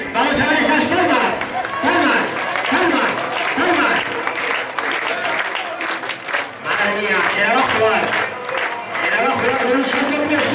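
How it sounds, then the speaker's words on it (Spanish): An audience claps steadily along at a live event, the dense rhythmic clapping continuing throughout as a commentator talks over it. "vamos a ver esas palmas"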